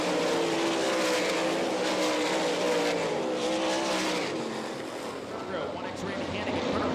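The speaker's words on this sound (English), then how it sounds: "Up to 15 car lengths now the lead as they race into turn 4 for the final time." World of Outlaws sprint cars roar into turn 4 on the final lap at Rossburg, Ohio, a loud, steady engine drone with rising and falling pitch from several passing cars, while an announcer talks over it.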